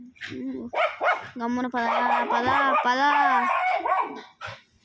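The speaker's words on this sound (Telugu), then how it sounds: "కోతుల మీద అరుస్తున్నాయి గైస్ కుక్కలు వచ్చేసి." Dogs bark and whine at monkeys near a home, with a person speaking over the noisy, overlapping yelps.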